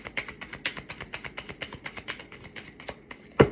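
A deck of oracle cards is shuffled in quick, rhythmic riffling taps, a fast run of crisp clicks that ends in a sharp louder snap, close up and without talk.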